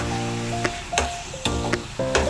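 Carrot halwa with ghee sizzles softly in a pan, a steady frying hiss broken by several sharp scraping stir strokes at roughly half-second intervals.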